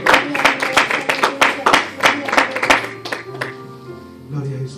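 A church congregation claps for Christ during a sermon, with loud, fairly rhythmic handclaps for about three seconds that then thin out under a sustained tone and voices.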